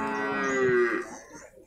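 A water buffalo arriving at a livestock market in Purwakarta lets out a single long, loud, tonal moo that swells and then trails off, close by with no talk over it.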